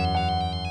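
A phone ringtone rings during a tense domestic scene, a steady electronic tone with repeating bright chirps pulsing about every tenth of a second, moderately loud and continuous with no talking over it.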